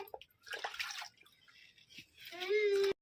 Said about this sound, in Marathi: परत एकदा स्वच्छ पाण्याने एकदा धुवायला लागतात